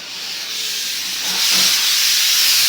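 Loud, steady hiss of steam rushing out of a pressure cooker whistle in a home kitchen, building slightly in intensity over a few seconds.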